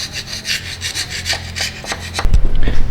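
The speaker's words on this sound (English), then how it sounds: "Get some carbide scraper action. So I scrape the gunk off there." A carbide scraper scrapes gunk off the head surface of a Chevy Cruze engine in close, loud, rapid rasping strokes, followed by a few heavier thuds and scuffs.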